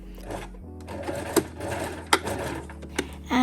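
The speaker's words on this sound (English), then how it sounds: "Then I'm gonna use my twin needle again to make the double stitch." A domestic sewing machine fitted with a twin needle runs in short bursts, double-stitching a folded, pressed hem on knit biker shorts, with clicks and soft thumps between runs.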